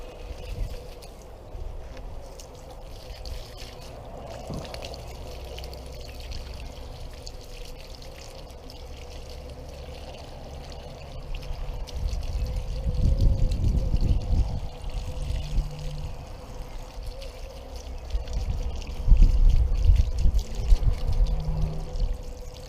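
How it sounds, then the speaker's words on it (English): Cold water pours and splashes in uneven bursts over a shiitake mushroom grow bag, over a low steady background hum, growing louder toward the end, with no talking. "Give it a good rinse with some cold water."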